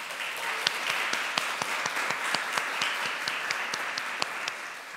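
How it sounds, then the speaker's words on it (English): Applause at a German-Ukrainian academic conference session, a modest audience clapping steadily with distinct individual claps standing out, close and even throughout. "applause to her"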